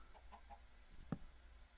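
Chicken in a block-building survival game clucking a few times in soft, short bursts, with a sharper click-like hit near the middle over quiet background.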